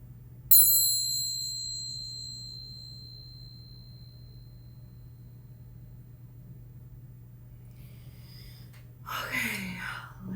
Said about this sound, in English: I'm gonna do the bells here.